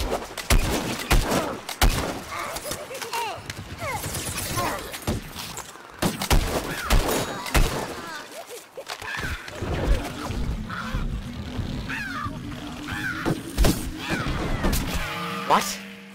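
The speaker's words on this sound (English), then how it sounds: "I was getting shot from like all directions" Chaotic gunfire and blasts in Plants vs Zombies Garden Warfare 2, dense rapid shots and crashes coming thick and fast, later giving way to a droning tone, with a voice talking over parts of it.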